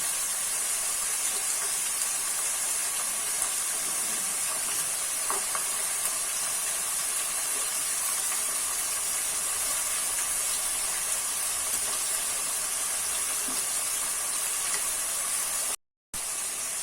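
Onions frying in hot oil with a pinch of chilli powder for beresta, cooked for mutton keema pulao; a steady, close sizzle and hiss runs throughout with faint stirring, broken by a brief dropout near the end.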